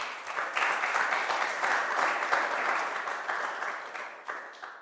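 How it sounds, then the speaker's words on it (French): A church congregation applauding at a fasting and prayer service, dense sustained clapping that swells quickly and then fades slightly, heard close and without speech. "Est-ce que vous pouvez acclamer le Seigneur pour cela?"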